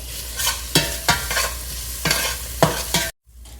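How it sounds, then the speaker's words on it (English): Onions sauté in a pan for a Sri Lankan tinned jack mackerel curry, the spoon stirring in a series of distinct scraping strokes over a steady close sizzle, with no one talking. "Just get them sauteing in there as well."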